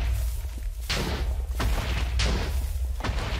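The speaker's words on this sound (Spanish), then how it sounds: "Dale, dale, dale, explosiones." Dynamite blasts go off in a Minecraft-style video game, four deep booming explosions spaced roughly evenly over a few seconds, each a broad burst of noise that rings out briefly before the next.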